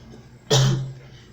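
A single short, sharp cough from a teacher during a Portuguese grammar lesson, close and fairly loud against a quiet room.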